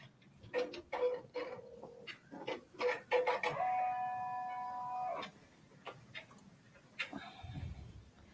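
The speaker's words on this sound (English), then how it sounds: "so we can see it embroidering" A PR1055X embroidery machine works in irregular mechanical ticks and clicks nearby, with a sustained electronic tone sounding for a couple of seconds in the middle, all fairly quiet.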